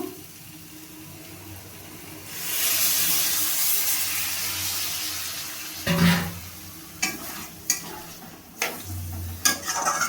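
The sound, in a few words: water added to pan of pointed gourd and potatoes, stirring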